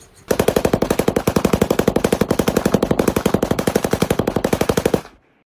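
A rapid, evenly spaced burst of machine-gun fire rattles continuously for about five seconds, loud and close, then cuts off abruptly into silence.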